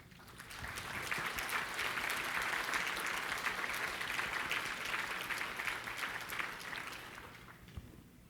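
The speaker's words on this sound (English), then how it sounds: "Can you stand up and give them a round of applause," A conference audience applauds a presenter's team, a dense, steady wash of clapping that swells quickly, holds for several seconds, then tapers off.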